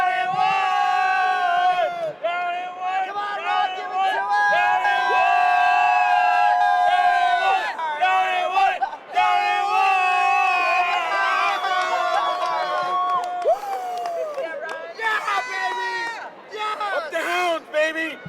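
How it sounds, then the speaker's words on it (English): A crowd at a Major League Rugby match between the Chicago Hounds and Old Glory DC roars and chants loudly and continuously, with surging shouts and cheers from many voices. "cheering so loud my mic came out"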